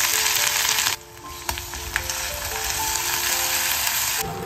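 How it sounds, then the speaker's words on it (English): Steady sizzling and crackling of crushed ginger, garlic and green chilies frying in hot coconut oil, close up, with a few light clinks of a utensil stirring. "Saute the crushed ginger, garlic and green chilies till the raw smell leaves"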